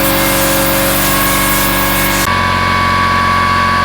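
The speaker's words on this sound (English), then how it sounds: "they'll use molds and vac form them just like this" Vacuum forming machine shaping a plastic holster in a workshop, a loud steady mechanical roar and hiss that abruptly drops to a lower hum partway through, with no talking.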